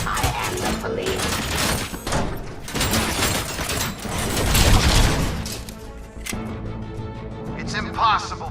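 Gunfire in the RoboCop Rogue City video game, a dense burst of shots and booms running almost nonstop under a game voice and a loud score, easing near the end.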